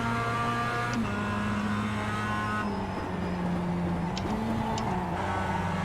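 A Mazda MX-5 race car engine in the iRacing video game, driven at Summit Point Raceway, drones steadily before its pitch drops through downshifts, with other cars audible close behind.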